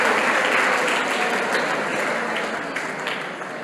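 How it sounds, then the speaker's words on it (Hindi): Students at a farewell gathering applaud loudly, a dense continuous crowd of clapping hands that stays close and full before easing off slightly toward the end. "उसके लिए जोरदार ताली बजाइए"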